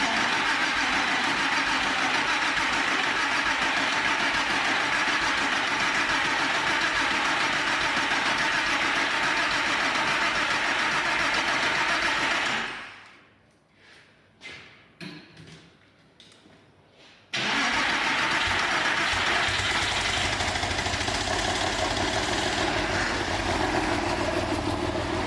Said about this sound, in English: start it up, pump's going to be running at idle, that'll draw all that fluid down, make a bit of a horrible noise where the pump's dry